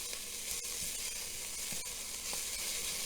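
Bacon fries in an Instant Pot with a steady, close sizzle and faint crackling pops, running without pause and with no one talking.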